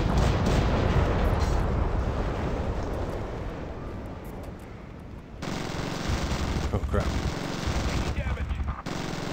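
Heavy gunship cannon and machine-gun fire in the video game Zombie Gunship Survival pounds almost continuously, thick rattling bursts and booming impacts overlapping, with a brief lull midway before the barrage resumes loud and close, and some speech underneath.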